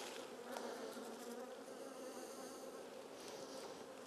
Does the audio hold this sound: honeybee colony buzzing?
yes